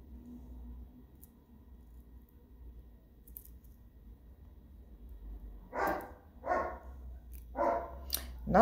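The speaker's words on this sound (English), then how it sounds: "excuse the dog, that's always barking." A neighbor's dog barks several times at a distance, sharp separate barks spaced irregularly toward the end of a quiet indoor room with a low hum.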